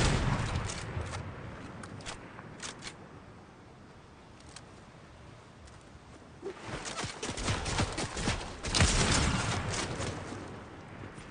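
Scattered gunshots in a Fortnite match: a few sharp cracks early on, then a denser, louder burst of firing in the second half, heard without talk.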